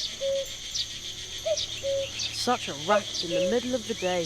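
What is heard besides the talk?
cricket chirping inside a barrel in The Night of the Rabbit video game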